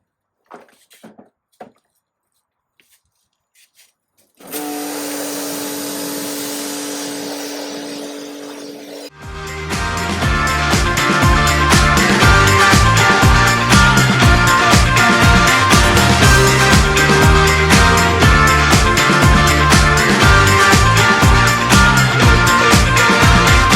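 Nilfisk E150 pressure washer fitted with a 25-degree nozzle: a few quiet clicks, then the motor starts with a steady hum, then a loud, close, rushing spray roars continuously.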